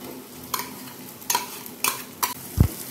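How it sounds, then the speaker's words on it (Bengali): Mashed potato with turmeric, ginger and green chili being stirred and fried in a pan over a medium gas flame, with soft sizzling broken by several scraping strokes and a low knock near the end. "গ্যাসের ফ্লেমটা মিডিয়ামে রেখে আলুটাকে নাড়াচাড়া করছি।"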